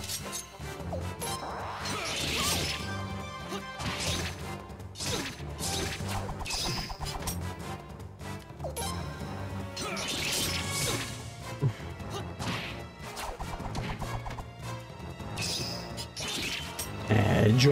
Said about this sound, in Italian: Sì, andandosi a schiantare contro un muro.